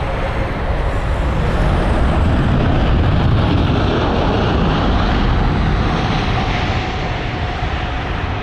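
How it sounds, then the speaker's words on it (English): A four-engined Airbus A340 airliner departs Heathrow with a loud, continuous broadband jet roar that swells and holds steady throughout, with no talk. "the A340 is also about to depart, so we might get a double dose of 4-engined aircrafts"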